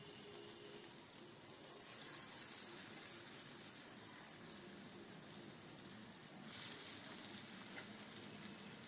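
Red lentil fritters frying in oil, a soft steady sizzle that swells as the batter goes in, fairly quiet and close, without speech.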